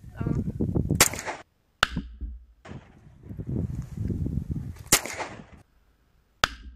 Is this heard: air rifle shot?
yes